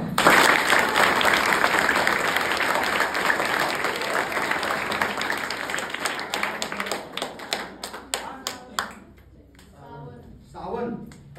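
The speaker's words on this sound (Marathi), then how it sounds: "आता टाळ्या वाजवा." Children and an audience clap together in a dense, loud burst that gradually thins into scattered claps and trailing voices toward the end, with people talking over it.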